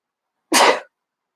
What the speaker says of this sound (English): It's just me sneezing.